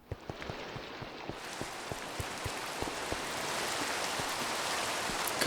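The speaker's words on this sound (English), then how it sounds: "You can hear also the rain." Rain in Minecraft, a steady hiss of falling water that swells gradually, with regular soft clicking ticks repeating underneath throughout.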